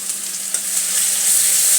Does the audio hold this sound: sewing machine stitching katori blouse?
no